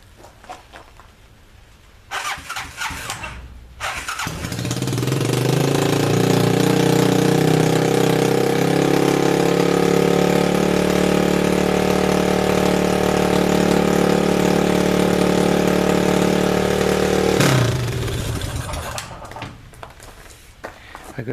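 A Honda TRX200SX ATV engine cranks over and catches, then idles loudly and steadily at a fairly high, revving idle for about thirteen seconds before shutting off, with quiet surroundings on either side.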